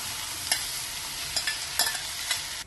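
A spoon stirs a Kerala sadya masala curry of turmeric and pressure-cooked vegetables in a pan. Several sharp scraping strokes land at uneven intervals over a soft continuous sizzle, close up and with no voices.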